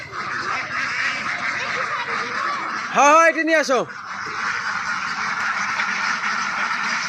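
Ducks on a duck farm give a short loud burst of quacking and honking near the middle, with farm background noise and people talking around it.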